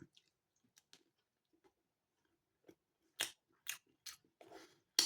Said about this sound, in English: Very light crunch on that chocolate on top.